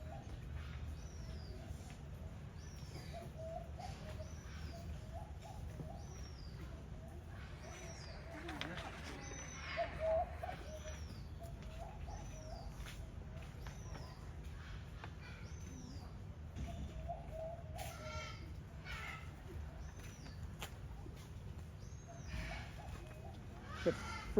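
Pigeons, including a straight pigeon among a crowded flock, cooing softly and repeatedly in the background over a steady low rumble, with occasional faint rustles and no talk.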